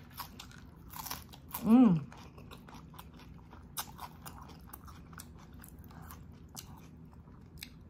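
Crunchy celery from a spicy beef oxtail adobo bitten and chewed up close, crisp crunches and smaller chewing clicks spread across the clip, with a brief hum of appreciation near the start.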